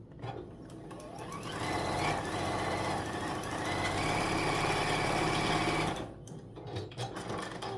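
A sewing machine stitching pieced border blocks for a snowman quilt runs in one steady, close whirring burst, building up and holding for several seconds before stopping, followed by quieter handling sounds.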